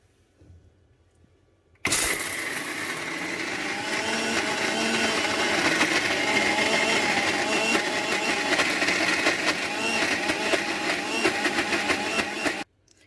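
A mixer grinder runs steadily, blending corn batter with jaggery for sweet boorelu; it switches on abruptly, holds a loud, even whirring drone for about eleven seconds, then cuts off.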